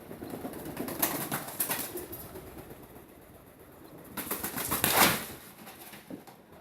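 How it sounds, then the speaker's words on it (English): A pigeon flapping its wings inside a building, with two bursts of fluttering wingbeats close to the listener and a quieter stretch between them. "yeah, something moving, but I think it's probably a pigeon."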